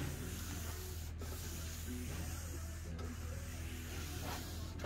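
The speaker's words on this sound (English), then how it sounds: "When the wax is dry, buff it." Steady dry rubbing of a cloth buffing dried wax on a wooden platform bed's surface, a continuous close scrubbing texture with a few sharper strokes.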